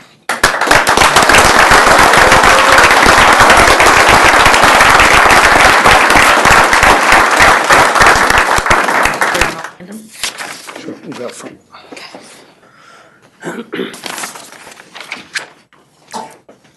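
A loud, close, dense burst of applause at a town board meeting lasts about nine seconds, then stops abruptly, leaving scattered voices and lighter sounds in the room.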